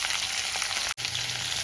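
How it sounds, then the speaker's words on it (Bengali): Cut potatoes and capsicum fry in hot oil with a steady, bright sizzle that cuts out for a split second and then resumes. "তেলটা আমার গরম হয়ে গেছিলো, আমি কেটে রাখা আলু আর ক্যাপসিকামটা দিয়ে দিয়েছি।"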